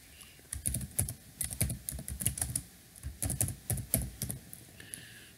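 Someone types text on a computer keyboard, producing close, steady runs of key clicks in uneven bursts with short gaps between them and no talking.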